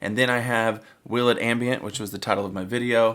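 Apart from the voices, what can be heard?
No everyday noise stands out behind the speech.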